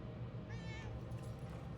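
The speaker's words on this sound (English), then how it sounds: "And there's the cat." A single short cat meow sounds faintly within the game Murdered: Soul Suspect, set against a steady low ambient hum.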